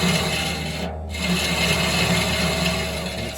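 Saw teeth are ground to take off their chrome-plated face, making a continuous harsh abrasive rasp close by with a brief dip in intensity, and no talking.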